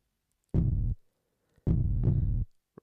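Two deep, booming kick drum hits with gated reverb, each sustained and thick, separated by about a second of silence.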